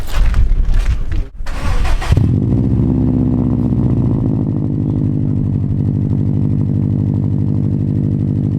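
A 2019 Subaru WRX STi on cold start: a brief starter crank and catch, a quick rev, then a loud, steady, rumbling high idle close by, with no talking.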